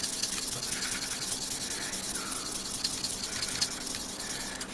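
Fine 2500 grit sandpaper rubs over the frets of a Warmoth guitar neck as they are leveled and crowned, making a continuous close scratchy hiss with slight strokes.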